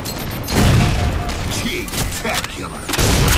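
Rapid automatic gunfire and booms from Halo 4 multiplayer Regicide on the Adrift map, loud and dense with continuous bursts overlapping through the whole stretch, no clear talk over it.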